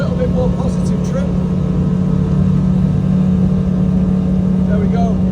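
A Finmaster 6 boat running flat out on open water, its engine holding a loud, steady droning roar with rushing water, while a person talks over it.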